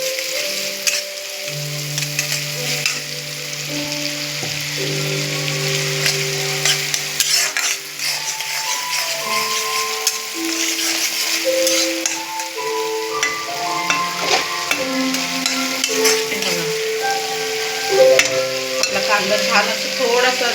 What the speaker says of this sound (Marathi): कांदा चांगला लाल होऊ द्यायचा.